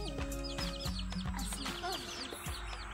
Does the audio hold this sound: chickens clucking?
yes